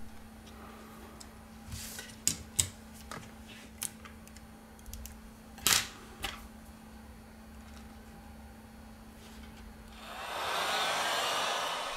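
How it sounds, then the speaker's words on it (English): A heat gun warming the screen of a Sony Xperia L1 during a screen replacement, its steady airy blowing rising in the last two seconds after scattered faint clicks and taps. "With the help of the heat gun, we apply 19 Celsius degrees during 4 minutes."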